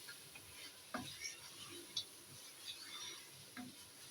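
Mutton with chili and ground dried coriander fries quietly in a pot, a soft sizzle broken by a few light scrapes and clinks of stirring.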